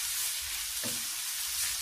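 Oil sizzling softly and steadily in a pan while cooking for Algerian coca, a faint continuous hiss with one brief soft clink partway through, no voices.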